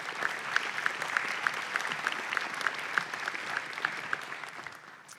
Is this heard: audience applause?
yes